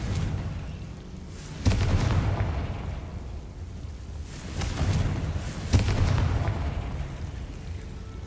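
Confringo blasting spell in the video game Hogwarts Legacy, two booming explosions about four seconds apart, each rolling into a low, sustained rumble over a constant background roar.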